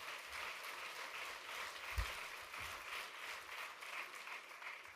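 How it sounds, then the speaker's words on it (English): Audience applause at a union legislative political conference, a steady, somewhat distant wash of clapping sustained for several seconds with a couple of low thumps, no speech over it. "And give him a round of applause."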